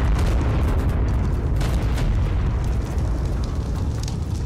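A bomb goes off in ARK Primal Fear, a dense, sustained roaring blast with heavy low-end rumble that stays loud and continuous throughout, with no speech over it.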